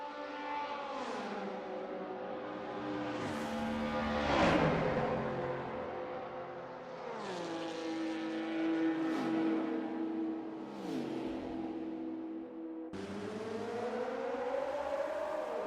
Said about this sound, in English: Going to add a little bit more AC audio. Hopefully that's a little bit more engine noise for you guys.